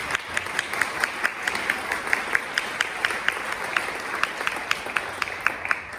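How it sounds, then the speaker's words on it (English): Audience applause for Mike Espel at a charity campaign kickoff, a steady wash of many hands clapping with sharper individual claps standing out through all six seconds, fairly close and even. "If we can give Mike a round of applause"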